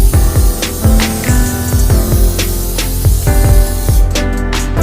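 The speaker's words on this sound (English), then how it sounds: "I'm gonna use some extra virgin olive oil to spray my pan." Loud hissing bursts of extra virgin olive oil spray coat a pan in quick succession, close up.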